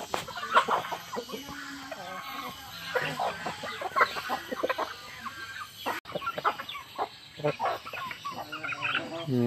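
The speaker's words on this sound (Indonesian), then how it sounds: "Ini ayam Bangkok nih." A flock of red Bangkok chickens clucks and squawks continuously nearby, with overlapping calls from several birds.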